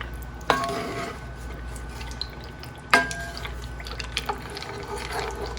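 A spoon scrapes and knocks in a skillet while sauce mix is stirred into a cheeseburger skillet meal, with a couple of distinct clanks over a soft, wet stirring texture.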